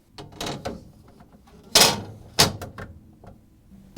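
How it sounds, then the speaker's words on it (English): A glass refrigerator shelf goes back into its slot, giving a few close clicks and two sharp clinking knocks against the fittings, with quiet scraping handling between them. "Then we can put the glass back in."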